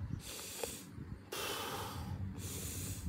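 Forced breathing through an O2 trainer breathing-muscle device, with hissing, airy inhales and exhales in two or three long strokes, close to the mic and without talk.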